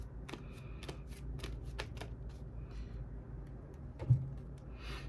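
Tarot cards shuffled close by for a reading, soft riffling and flicking in short bursts with small taps between, faint and intimate over a quiet room hiss.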